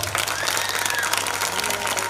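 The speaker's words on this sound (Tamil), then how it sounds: "எல்லா பெண்களும் எனக்காக ஒரு முறை கைத்தட்டுங்க பார்ப்போம்" Women in a comedy-show audience clap together, a steady loud patter of many hands filling the space for a couple of seconds.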